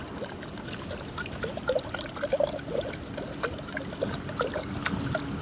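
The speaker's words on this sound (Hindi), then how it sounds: "पानी ढालिया" Water pours and splashes steadily, a continuous wet rushing with small bursts of trickling, fairly close.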